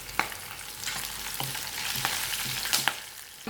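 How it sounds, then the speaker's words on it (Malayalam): Curry leaves crackling in hot oil in a pan for a Kerala-style beef curry, a steady close sizzle with several sharp pops and spits scattered across it, no voices. "നമുക്ക് ഇതിലോട്ട് കറിവേപ്പിലയും കൂടെ ഇട്ട് കൊടുക്കാം"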